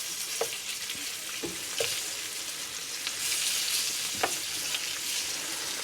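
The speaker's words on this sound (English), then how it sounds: "I'm going to fry up some mushrooms as well to have with my snaggle bangers" Mushrooms fry in butter in a pan, giving a constant close sizzle that swells slightly partway through, punctuated by several distinct utensil clinks and scrapes, with nobody speaking.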